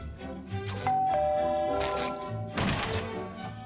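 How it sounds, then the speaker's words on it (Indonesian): A cartoon doorbell rings in SpongeBob with a bright sustained ding tone, followed by another chime, over light squishy tapping sounds. "kau boleh membunyikan bel"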